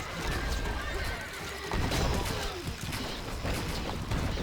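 Horses neigh and whinny as their hooves clatter in a gallop during a medieval battle in the Stronghold Crusader strategy game, a loud, continuous din mixed with clanking and crashing combat noise.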